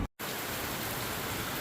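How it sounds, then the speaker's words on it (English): Steady outdoor rain falling, a dense, even hiss that is close and continuous after a brief cut at the start, with no voices over it. "It's raining good out."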